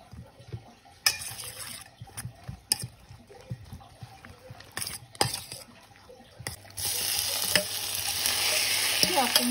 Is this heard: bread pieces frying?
yes